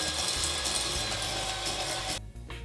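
An electric hand mixer whirs steadily through snickerdoodle cookie batter, loud and continuous, with the motor sound thinning out near the end.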